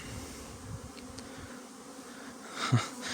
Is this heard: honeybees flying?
yes